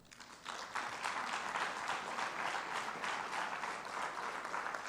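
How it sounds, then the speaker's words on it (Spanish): An audience at an international cybersecurity forum conference breaks into sustained applause after about half a second, a dense, even clapping from a large crowd that holds steady to the end. "brindamos un fuerte aplauso"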